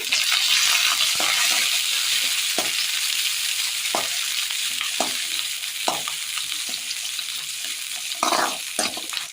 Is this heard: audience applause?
no